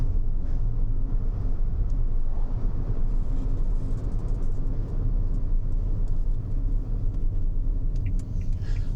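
A 2013 Suzuki Spacia Custom TS turbo kei car cruising at 80 km/h, a steady low road and engine rumble with constant revs, heard from inside the cabin with no voices.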